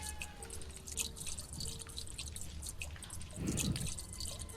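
Liquid pours and splashes from a gasoline can in the Granny 2 video game, a steady trickling stream with a louder gush near the end over faint background ambience.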